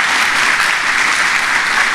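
A church congregation claps steadily and loudly, a thick uninterrupted wash of applause.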